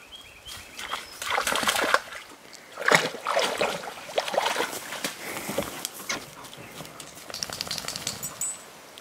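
A dog splashes and dives through a shallow creek about two feet deep, with repeated sloshing and splattering water, close and fairly loud throughout.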